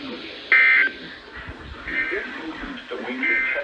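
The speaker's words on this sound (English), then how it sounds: "The weekly test of the warning alarm system." Weekly test of a weather warning alarm system: a loud, steady electronic alert tone bursts out near the start, then fainter repeated tones follow amid background voices and broadcast sound.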